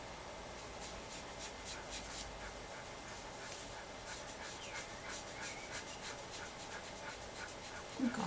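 A dog pants rapidly and steadily at close range, with a quick, regular rhythm of breathy huffs throughout and a brief louder rustle at the very end.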